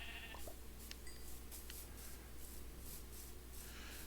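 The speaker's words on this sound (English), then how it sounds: "After I deal with this very bad sheep." Sheep bleating in the Minecraft video game, a few short synthetic bleats over a steady game background with occasional soft chime-like beeps.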